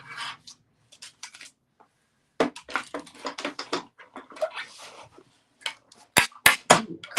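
A manual die-cutting machine presses a cloud design out of cover stock, giving irregular crunching and creaking bursts with short pauses between them, close and moderately loud.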